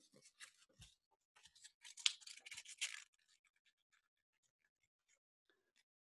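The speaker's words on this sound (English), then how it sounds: "when I roll up this paper" A sheet of paper is rolled up by hand, giving a quick cluster of crisp rustles and crinkles lasting about two seconds, followed by a few faint scattered ticks in an otherwise quiet room.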